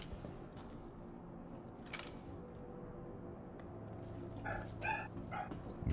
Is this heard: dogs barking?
yes